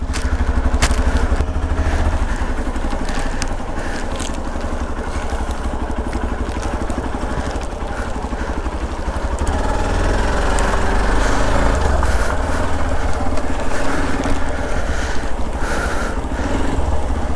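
A motorcycle rides along a rough, broken road, its engine droning loud and close the whole way, with rattles and jolts from the uneven surface.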